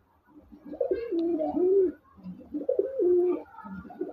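Chuitala chunna pigeons sitting on eggs coo close by in two clear rolling phrases, each a throaty, wavering call separated by a short pause, with no speech.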